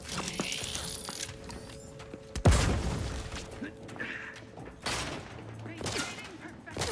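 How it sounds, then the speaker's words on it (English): A grenade blast in The Outer Worlds 2 hits as a sudden deep boom, then a rumbling decay amid busy combat noise, clanks and scattered shots, with a voice speaking over the action. "Grenade away!"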